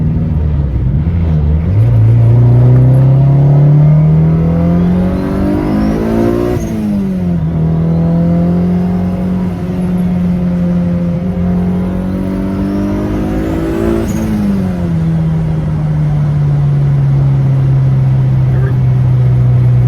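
Turbocharged Honda Integra with a B18 engine accelerating along a country road, its loud engine note rising in pitch, dropping at gear shifts and climbing again, steady and close throughout.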